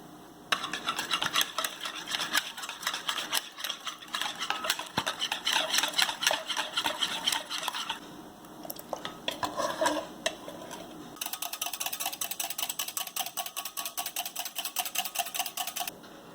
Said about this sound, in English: I am just going to whisk these 2 eggs and add them to my yeast and milk mixture